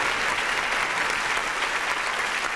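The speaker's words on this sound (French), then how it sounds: "Oh, arrêtez d'applaudir." Steady, dense applause from a television studio audience during a French variety show, loud and continuous throughout with no pauses and no voices standing out.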